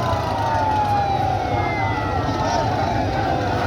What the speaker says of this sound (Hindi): इस एम्बुलेंस में अर्शद शरीफ साहब का जस्दे हाकी एम्बुलेंस की तरफ लेके जा रहे हैं।